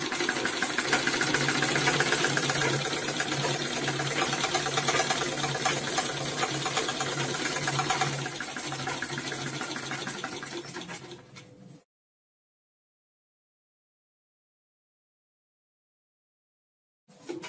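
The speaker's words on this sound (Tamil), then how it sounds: "திருப்பி அந்த பக்கம் போட்டு அதுக்கு மேல ஒரு அமுக்கு தையல் போடணும்" A sewing machine runs steadily for about twelve seconds, stitching a pocket on a pair of men's trousers with a loud, even motor hum and rapid needle chatter. It then stops abruptly into near silence before a brief restart at the end.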